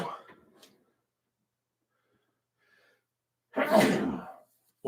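A single sharp sneeze bursts out after a stretch of near silence, loud and close, with a brief breathy sound at the very start.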